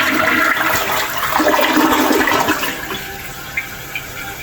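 A newly installed Project Source Pro dual flush toilet flushes with a loud, close rush of water that swirls down. It settles into a softer gurgling refill, with a couple of small knocks near the end.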